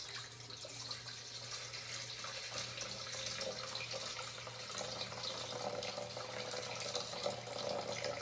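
Water pouring steadily into a mixing bowl for rye bread, a continuous faint splashing trickle that holds even for about eight seconds.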